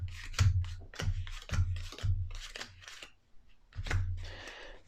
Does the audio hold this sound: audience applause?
no